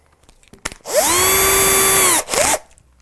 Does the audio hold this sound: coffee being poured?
no